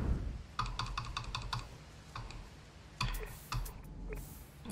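Keys of a computer keyboard tapped near the mic in quick bursts of light clicks separated by short pauses, quiet and without talk.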